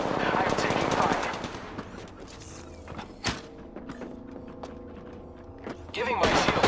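Enemy gunfire in the Apex Legends video game: rapid automatic bursts and scattered single shots, some close and loud, others further off, mixed with mechanical clicks and game effects while a voice talks.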